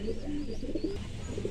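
A Giribaj pigeon shown for sale gives soft, low, repeated coos at close range in an otherwise quiet setting.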